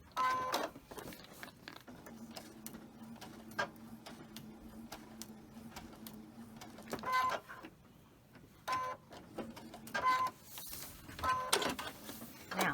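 Sewing machine stitching two fabric pieces placed right sides together along a marked line: a steady motor hum with fast mechanical ticking runs in a long burst, then shorter bursts, close and moderately loud with no talk.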